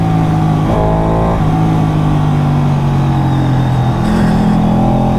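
A Ducati Panigale motorcycle revving hard at full throttle, a loud, close engine howl that climbs and shifts pitch through the run, with brief dips between pulls.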